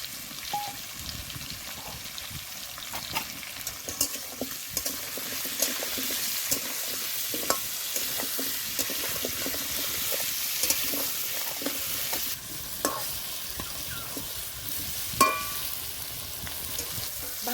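Pumpkin and potato curry with turmeric, green chilli and chopped tomato sizzles steadily in a pan while it is sautéed, with frequent scraping and stirring clicks from a spatula throughout, close and moderately loud.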